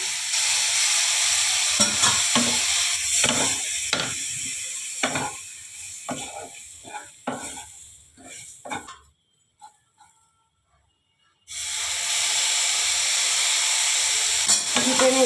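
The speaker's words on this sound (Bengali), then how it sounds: "এবারে আমি অল্প অল্প করে জল দিতে থাকবো, একটু গরম জল দিয়ে দিচ্ছি" Hot water splashed little by little into semolina roasting in a pan for jhal-misti upma, giving bursts of loud hissing and stirring scrapes, a brief near-quiet lull, then a strong continuous sizzle of steam.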